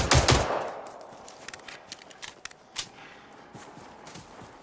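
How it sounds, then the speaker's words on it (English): Gunfire in the video game Generation Zero: a loud opening burst followed by a scattered run of quicker, fainter shots and clicks, with no voices over it. "I don't think I hit any of those shots."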